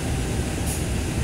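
Steady broadband rumble and hiss of a train arriving and stopping at a station platform, a constant roar with no clear rhythm and no voices.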